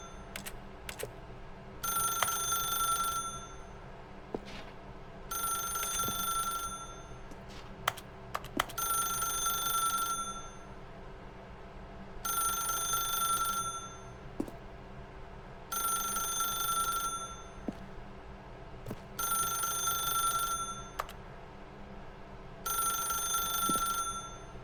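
Telephone ringing in The Stanley Parable video game: six repeated bursts of electronic ring, each about two seconds long with gaps between, over a low steady ambient hum with scattered small clicks.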